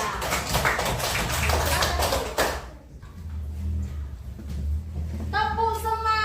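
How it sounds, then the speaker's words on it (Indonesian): Classroom of children applauds a student group with a burst of mixed clapping and chatter that ends abruptly, followed by quieter room noise and a voice. "kasih tepuk tangan sekali lagi untuk kelompok 3"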